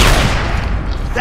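A sniper rifle shot in the video game Gears of War 2 lands as a loud, booming blast that fills the moment, then rolls off into a dense, decaying rumble.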